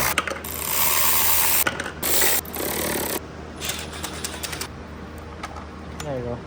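Ratchet clicking away on 10 mm bolts under the hood of a Genesis Coupe during catch can work, a close mechanical rattle in short loud bursts and then lighter intermittent clicks, with a voice talking over part of it.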